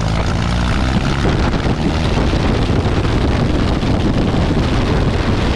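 RV-4 light aircraft's propeller engine at full power during the takeoff roll for a test flight, a steady loud roar with wind buffeting the microphone, continuous throughout with no talk.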